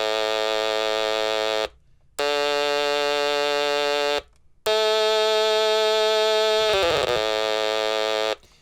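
A vintage Stylophone sounds sustained buzzy electronic notes in three bursts separated by short silences. The last burst wavers with a clear vibrato wobble, close and alone.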